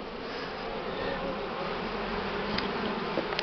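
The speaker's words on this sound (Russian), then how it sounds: "Потом высыпаю пчел, то матка не проходит." A spring swarm of honey bees buzzes steadily and closely in a thick, continuous drone while being shaken out to find the queen, with a few brief sharper buzzes passing near toward the end; no one speaks.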